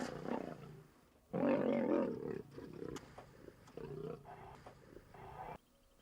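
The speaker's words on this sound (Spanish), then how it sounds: "varias horas de gruñidos y zarpazos" Asiatic lions growl and roar while fighting, with deep, rasping bursts of varying length rising and falling, the loudest a sustained snarl near the start, heard at moderate distance.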